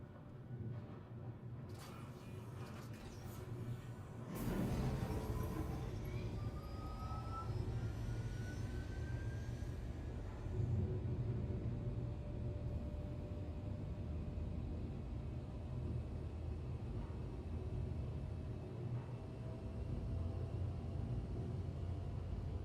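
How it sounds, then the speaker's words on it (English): Departing shuttle in a sci-fi video game, a steady low engine rumble that swells sharply after a quiet start and holds loud and continuous, with faint higher whines drifting across it. "The shuttle is preparing to depart."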